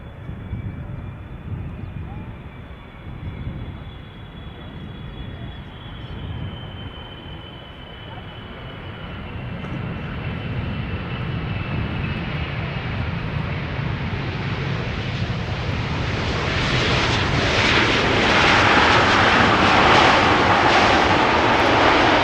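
Boeing 777-200LR long-range airliner at Schiphol Airport, a continuous engine roar that builds steadily, growing louder and brighter with a rising whine toward the end, with some talk mixed in.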